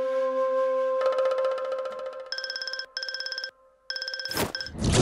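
A telephone rings in an animated cartoon, a steady tone followed by rapid repeating electronic ring bursts with short gaps, loud and close, ending with a few clattering noises.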